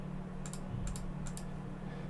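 A few quick pairs of soft keystrokes on a computer keyboard, clustered in short bursts over a low steady hum, with no talking.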